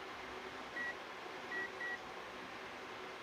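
An induction cooktop gives three short, clear electronic beeps as it is switched on, spaced about evenly apart over a steady air-conditioning-like hum in a shop.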